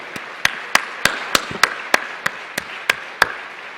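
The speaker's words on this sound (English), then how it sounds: "let's give again rising acclaim and applause to all the three speakers who really enlightened us today." Sparse, evenly spaced single claps from a conference audience greeting three speakers, about a dozen sharp hand claps in a steady rhythm rather than full applause, fairly close and alone without talk.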